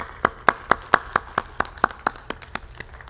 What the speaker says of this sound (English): Let's give Mr. Rector a round of applause